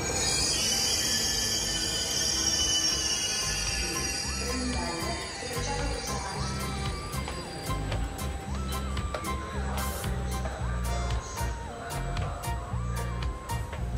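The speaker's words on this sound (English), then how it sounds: "Here comes our train." A train pulls into Santa Maria Novella station in Florence with loud, steady wheel squeal and rail rumble that runs nearly the whole time, close and sustained, with faint voices in the background.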